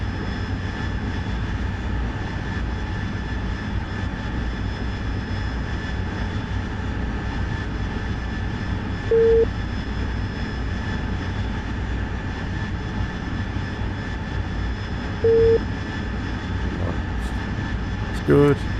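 Steady engine roar of a fighter jet in flight in the DCS World combat flight simulator, a continuous drone filling the whole stretch with a few short electronic tones; voices talk over it.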